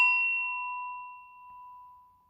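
A small singing bowl rings out from a single strike, a clear high pure tone with a faint upper overtone that fades slowly over a couple of seconds, alone with no talking.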